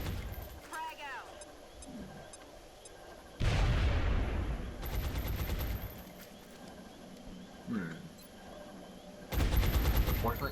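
Grenade blast followed by bursts of gunfire in the turn-based strategy game XCOM, heavy booming explosions breaking in abruptly at intervals over game ambience, with someone talking over parts of it.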